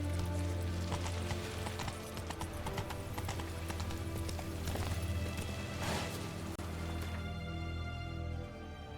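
Horse hooves clip-clopping at a steady run in the video game Witcher 3, with a brief whinny, sounding close and continuous over a constant game music and ambience bed for most of the stretch.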